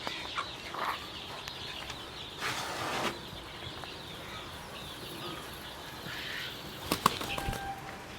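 A Palakkad native hen, held while its beak is burnt, gives a couple of sudden bursts of wing flapping with faint clucks, close by against quiet farmyard background noise.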